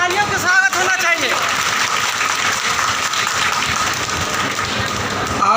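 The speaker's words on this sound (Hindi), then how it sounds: "हमारे जिला अध्यक्ष के लिए जोरदार तालियों का स्वागत होना चाहिए।" An audience at a Jharkhand state employees' union district gathering in Ramgarh applauds, with a dense, sustained clatter of clapping under and after a brief stretch of voices.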